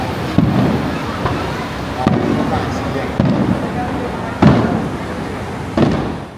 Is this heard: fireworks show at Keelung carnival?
yes